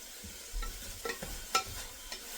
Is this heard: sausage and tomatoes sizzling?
yes